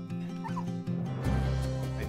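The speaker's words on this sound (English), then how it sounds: "We have 71 dogs in the house currently." Rescue dogs inside a house barking and whimpering, several short yips and whines close by, building into a louder, denser burst of overlapping barks toward the end.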